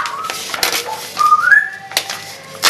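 An African grey parrot whistles near the microphone, short clear rising and sliding whistled notes over light room noise and scattered clatter.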